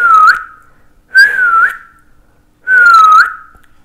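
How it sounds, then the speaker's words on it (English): Three separate whistled notes, recorded on a Boya BY-M1 microphone, each a steady tone ending in a small upward flick, with short silent gaps between them; clear and close. "I will make a whistle sound."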